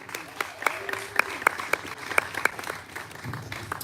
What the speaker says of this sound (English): And a big clap for Michael